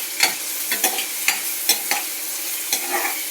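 Onion sautéing in a pan after garlic has been fried, a soft sizzle broken by repeated scraping stirs of a spoon, close and steady with no talking.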